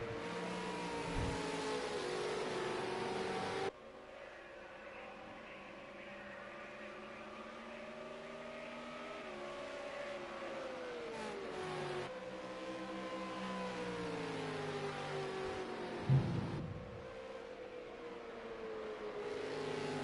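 Race car engine in a racing video game at Willow Springs International Raceway, a continuous high-revving drone whose pitch rises and falls, with abrupt gear-change drops and no voices.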